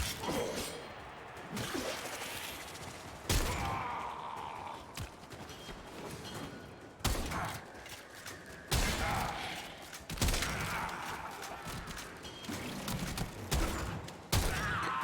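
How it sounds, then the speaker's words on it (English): In Warframe, a heated charge pistol fires a string of heavy, crackling blasts, about six loud bursts spaced a second or two apart, each trailing into a dense rumbling hiss. "Heated charge pistol."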